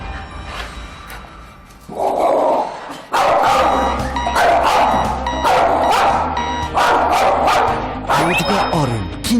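An aggressive dog barks fiercely inside a family home, a string of loud, close barks in rapid bursts over several seconds after a quieter lead-in, with a voice speaking alongside.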